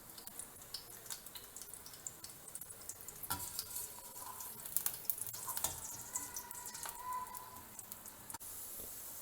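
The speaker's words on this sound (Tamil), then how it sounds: "இப்போ பொடியாக நறுக்கின பெரிய வெங்காயத்தை இப்போ சேர்த்துருக்கோம். அது கொஞ்சம் நல்லா வதங்கட்டும்." Finely chopped large onion sautés in a pan for gobi manchurian, a soft continuous sizzle with faint stirring scrapes and light clicks throughout, no voices.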